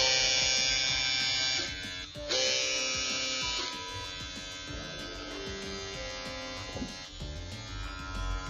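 A Wahl Vanish electric shaver runs with a steady, loud motor buzz for several seconds, a brief dip near the start, then a continuous drone with no talking.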